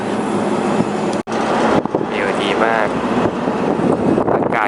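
Wind roars steadily into the open bed of a pickup truck while riding downhill on a mountain road, a loud continuous broadband rush with brief dropouts, with people talking over it.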